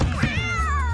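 A cat in the Skullgirls fighting game lets out a single loud, drawn-out meow that slides downward in pitch, close and clear over a steady low hum.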